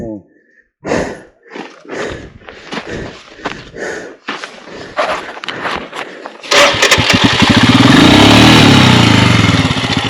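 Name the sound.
Royal Enfield motorcycle engine with burnt clutch plate, gear not engaging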